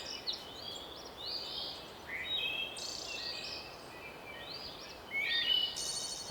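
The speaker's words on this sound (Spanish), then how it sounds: "los agudos cantos de los pájaros" High-pitched birds sing in the wild wetlands of the Pantanal, with several thin, rising chirps and trills scattered over a steady outdoor hiss of wind and insects.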